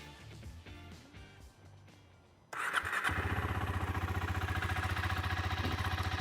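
A cold KTM Duke 390 motorcycle engine cranks and fires up, then settles into a loud, steady idle with a rapid, even exhaust pulse.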